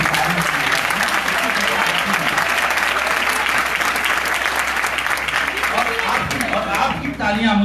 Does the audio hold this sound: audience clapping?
yes